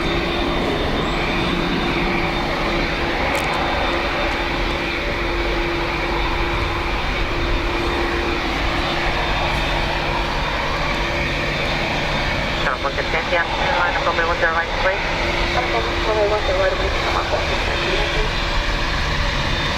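An American Airlines Boeing 787 Dreamliner at a wet, windy Dublin Airport gives off a loud, sustained engine roar with a steady hum, and a voice talks over it.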